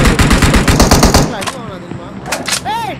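Loud automatic gunfire in PUBG Mobile: a fast rhythmic burst of shots, then a pause and a few more scattered cracks, with a brief voice near the end.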